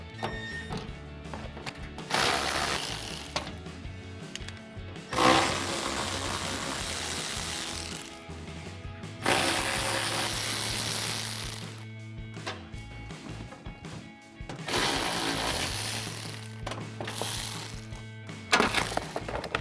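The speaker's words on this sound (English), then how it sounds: "So I'm gonna start by pulling off these 8mm bolts. I've just got my ratchet here." A hand ratchet backs 8mm bolts out of the fender liner on a 2019-2023 RAM 1500, with repeated rapid metallic clicking bursts separated by short pauses, close and clear.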